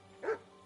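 A single short dog bark from the video game Kingdom Come: Deliverance II, moderately loud and alone over a faint steady background hum.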